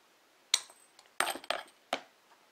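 Head pin snipped with cutters while making gift card earrings: four sharp, small metallic clicks spaced unevenly over a couple of seconds, close and crisp against near silence.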